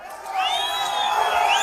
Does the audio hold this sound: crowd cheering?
yes